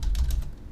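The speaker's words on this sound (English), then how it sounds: "Let's just type in" Brief burst of keystrokes on a computer keyboard while entering a search term, a few quick close taps over a low background hum, with no one talking.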